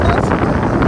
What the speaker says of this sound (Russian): тут, конечно, ветрено, высота, как вы понимаете